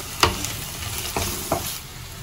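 Vegetables being stirred and fried in a pan, with steady sizzling throughout and a few sharp scraping stir strokes, close and moderately loud, no talking.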